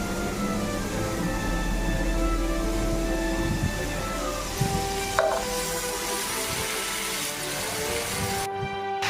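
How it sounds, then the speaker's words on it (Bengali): Bottle gourd pieces and drumsticks fry and get stirred in a pan for a Bengali vegetarian shukto, giving a steady sizzle with scraping stir sounds throughout, and a sharp clink about midway. "দিয়ে 3-4 মিনিট খুব ভালোভাবে এটি ভেজে নিচ্ছি"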